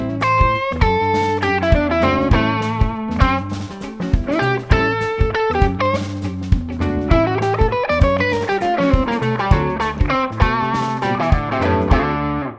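Electric guitar plays a flowing bluesy lick of rapid picked notes with bends and slides, clean and close, ending on a held note.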